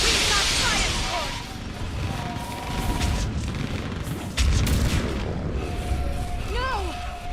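A Mass Effect 3 battle rumbles with artillery fire support and gunfire, a couple of deep booms and cracks mixed with shouted voices and whistling effects.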